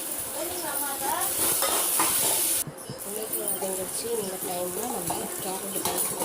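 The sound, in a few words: sautéing onions, green chilies and tomatoes in a pan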